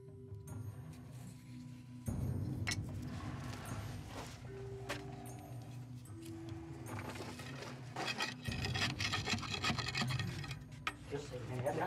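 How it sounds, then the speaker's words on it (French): A blade scrapes and rasps as it notches sticks of dynamite on a mountain road blasting site in the Philippines, with faint rubbing strokes and clicks under a narrating voice. "entaille chaque bâton de dynamite pour en décupler leur force"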